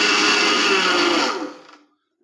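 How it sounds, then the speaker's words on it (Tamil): A mixer grinder powdering sugar whirs loudly at high speed, then switches off and spins down to silence. "அதனால மிக்ஸில சர்க்கரை போட்டு நம்ம பவுடர் பண்ணிக்கலாம்"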